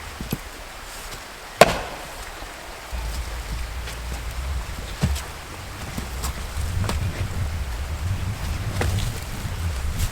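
Frozen firewood is chopped outdoors, with a sharp axe strike and a few lighter knocks spread over ten seconds against a background of wind rumbling on the microphone.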